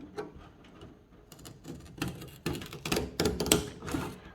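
Repeated crisp snips and crunching cuts of a big pair of scissors through a stiff Lexan RC car body, close and fairly quiet, in an uneven rhythm.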